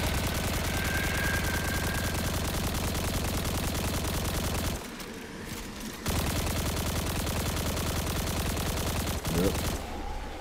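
Sustained automatic gunfire in Destiny 2, a dense, loud, unbroken stream of shots running almost the whole time, with two short pauses, and no talking over it.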